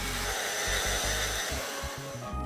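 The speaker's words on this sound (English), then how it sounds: "it's time to grab the jigsaw and roughly cut out all the openings." Jigsaw roughly cutting openings in wood for a PC case build whirs with a steady, noisy buzz, its low hum pulsing in short uneven surges as the blade bites and eases.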